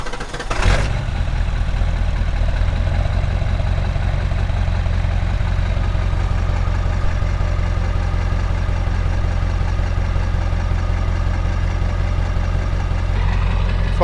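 A 26-year-old Powerstroke diesel truck engine starts and settles into a loud, steady, rumbling idle, recorded up close and continuing unchanged throughout.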